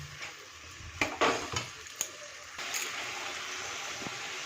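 Spice gravy with salt, turmeric and chili powder frying in oil in a pan, a moderate sizzle broken by a few scrapes and clacks of a stirring spoon, close by.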